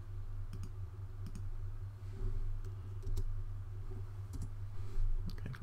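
A computer mouse clicks several times in quick, sharp pairs and singles, faint and close over a low steady hum from a computer during virtual server setup, with no speech.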